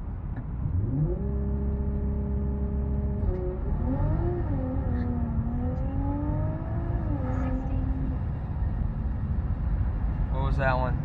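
An Audi S4 launching on a 0-60 run, its engine note climbing through the gears in rising sweeps with shift breaks, loud and steady, a brief voice near the end.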